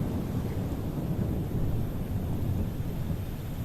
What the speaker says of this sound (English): is thunder and lightning outside